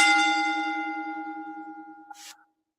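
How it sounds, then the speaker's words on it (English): A wrestling ring bell is struck once after a three count, a bright metallic clang that rings out and slowly decays, followed by a short burst of noise before silence. "so we're going to ring that damn bell"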